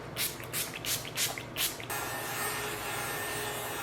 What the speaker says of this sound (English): I'm going to go ahead and set my face with setting spray